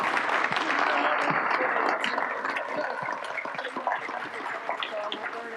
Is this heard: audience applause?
yes